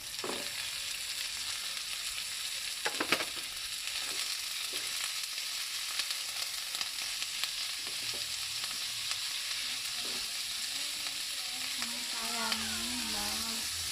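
Ground pork sizzles steadily in a hot pan for Kapampangan giniling with pork and beans, a continuous close frying hiss with occasional light stirring taps and a brief voice near the end.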